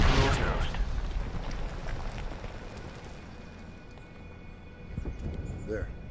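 A mortar shell explodes in a Medal of Honor battlefield, opening with a loud, close boom that decays into a long rumbling wash of debris and noise, with a smaller thump near the end.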